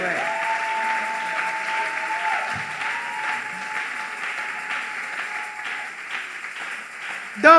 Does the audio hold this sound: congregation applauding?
yes